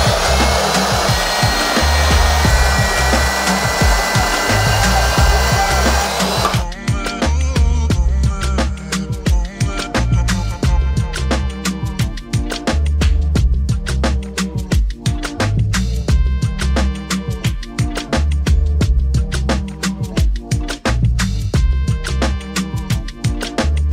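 Turbo kit piping on a turbo V6 Honda is cut with a power tool, giving a loud continuous whine that shifts pitch partway through and then settles into a steady, gritty cutting drone with rapid rasping texture.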